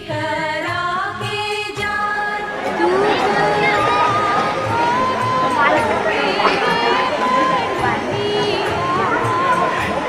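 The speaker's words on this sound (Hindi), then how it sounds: "लाखों की भीड़ जो छठ घाटों तक पहुंचती है वो अपने आप व्यवस्थित होती है" A large crowd of devotees at the Chhath Puja ghats fills the air with dense chatter and shouting, steady and loud throughout, with clear voices rising above the babble.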